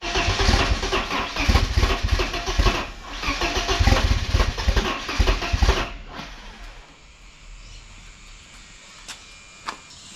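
BMW E36 with a turbocharged M44 engine cranking and firing up, loud rough revving for several seconds before dropping to a quieter, steady idle.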